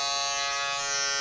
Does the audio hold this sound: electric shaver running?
yes